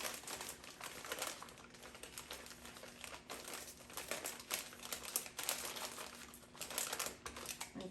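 A paper bakery bag holding double chocolate biscotti crinkles and rustles steadily close by as it is handled and tied shut, a continuous dry crackling with no talk.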